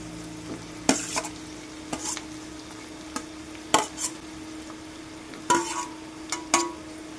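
Tomato pieces dropped into broad beans frying in a pan for a bean and tomato curry, giving a steady low sizzle broken by several sharp clattering bursts as the pieces land and get stirred.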